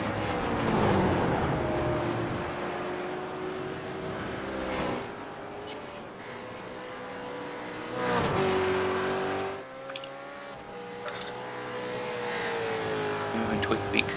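Race cars engines droning and shifting pitch in the iRacing sim racing game, a sustained mechanical whine that rises and falls as cars pass, with a commentator talking over it throughout.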